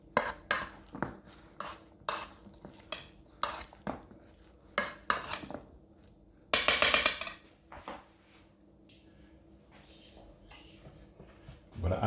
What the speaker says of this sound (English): Combine everything together.